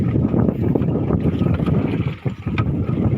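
Wind blowing across a boat out fishing in the morning, a steady loud rumbling roar buffeting the microphone throughout, with faint water and hull noise underneath and no talking.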